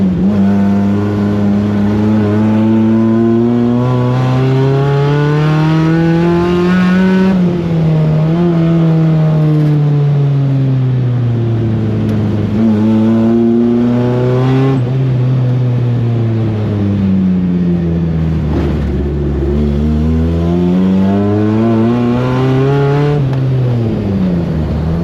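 Track-ready budget race car engine revving steadily and loudly, its pitch climbing and dropping repeatedly as it accelerates and shifts through gears, heard close and continuous with no talking.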